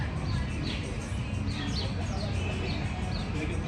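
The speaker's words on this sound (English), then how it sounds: "the little birds chirping" Small birds chirp repeatedly in a busy Mexican town street, their bright calls sitting over steady outdoor crowd and traffic noise.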